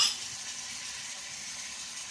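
Green peas and sweet corn frying in a pan with stock cube and whole spices, a steady close sizzle throughout with a brief louder crackle at the start.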